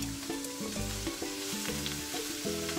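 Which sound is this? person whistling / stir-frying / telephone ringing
stir-frying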